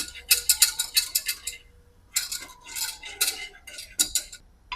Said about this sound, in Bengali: ময়দাটা একটু নাড়াচাড়া করব